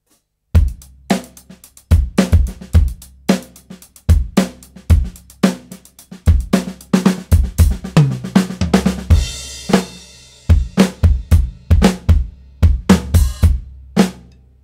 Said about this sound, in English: I've got something called a round kick added to my real snare